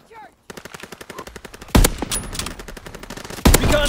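Gunfire in the World War 2 shooter game Call of Duty WW2: a loud, rapid stream of machine-gun shots punctuated by two heavy, booming blasts.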